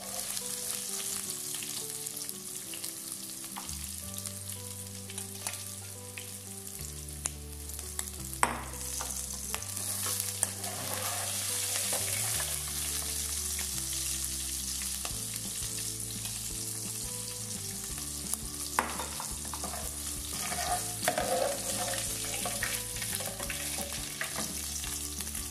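Sausages sizzle steadily in a pan as they are stirred, a continuous close frying hiss with occasional scraping. Music plays underneath throughout.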